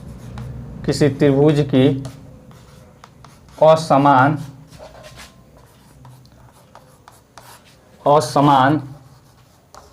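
Writing on a board during a geometry lesson on triangles, with soft strokes and scratches in the pauses between bursts of a teacher's speech.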